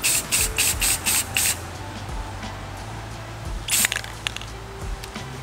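Rust-Oleum spray paint hissing from a can onto car traction bar parts in several short rhythmic bursts, then a pause and another brief spray, close and clear over a low background hum.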